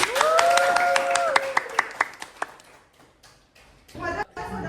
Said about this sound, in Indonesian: marilah kita sambut moderator kita hari ini, Saudara Gafran, dengan tepuk tangan yang meriah